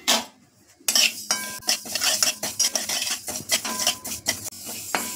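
Dry roasting in a hot kadhai over a low flame while making methi laddoos, a spoon scraping and clinking against the metal in quick, busy strokes after a brief quiet start, with a faint sizzle.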